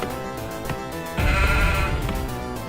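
Sheep bleating in the Warcraft II game, a wavering bleat that swells loudly midway over a soft musical backdrop.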